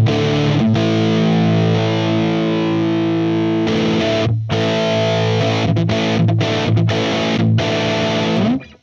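Electric guitar run through a Universal Audio Brown 80s amp plugin, loud and heavily distorted, with sustained chords giving way to choppy, stop-start riffing and a sliding final note, no voices.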